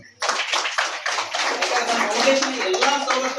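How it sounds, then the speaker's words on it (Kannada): Loud clapping from an audience at a Jeevandan group meeting in Jabbalgudda, starting abruptly and continuing as brisk, dense applause with a few voices under it. "ಜೋರಾಗಿ ಚಪ್ಪಾಳೆ."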